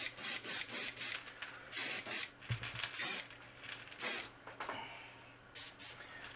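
Eclipse airbrush spraying pearl paint onto a koi-pattern crankbait in short, repeated hissing bursts with brief pauses between, close and clear.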